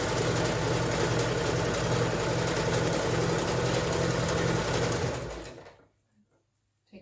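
A sewing machine stitches ties onto a fabric face mask in a fast, steady mechanical whir close by, running continuously for about five seconds before slowing and stopping into near silence.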